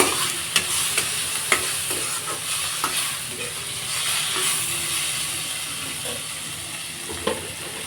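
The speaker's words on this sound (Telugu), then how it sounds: "ఇప్పుడు మళ్ళీ ఒకసారి బాగా మిక్స్ చేసుకున్నాను" Chopped tomato stirred in a frying pan while making peanut chutney, a steady close sizzle with repeated scrapes and clinks of the spoon against the pan, no voices.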